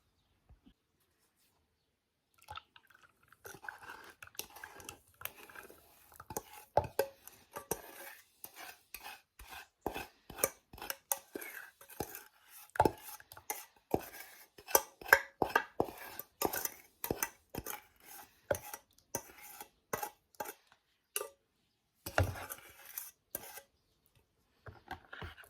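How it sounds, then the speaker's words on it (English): A spoon stirs warm butter, sugar and salt in a bowl for buttermilk rusks, making quiet, irregular clinks and scrapes that tap rhythmically against the bowl's side. "I'm now going to add the warm butter, sugar with the 2 teaspoons of salt mixture into this and mix it around"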